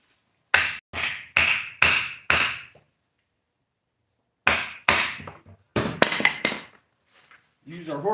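Metal hammer strikes ring out at a forge anvil with a bush vise, working on a horseshoe: five evenly spaced sharp clangs, a pause, then another quick run of blows, close and loud, followed by a brief bit of talk.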